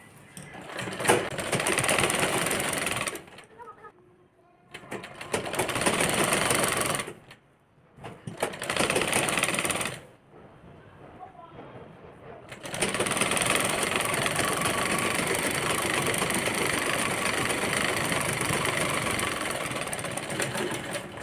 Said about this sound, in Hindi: हम सिर्फ पहले नेट पे सिलाई लगाएंगे और पूरी पार सिलाई लगा लेंगे हम नेट पे